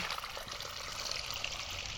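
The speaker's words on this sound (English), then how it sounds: "And the water just comes out there." Water pours steadily from a pipe into a garden water feature's catch basin, a soft continuous trickle and splash heard close and fairly quiet, with no talking.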